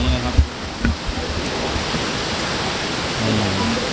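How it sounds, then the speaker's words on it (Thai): Wulai waterfall in Taiwan pours in a steady broadband roar from a viewpoint. It stays constant and fairly loud, with a few brief knocks and faint voice-like sounds near the start and end. "จะเห็นน้ำตกชัดเจนที่สุดเลยครับผม"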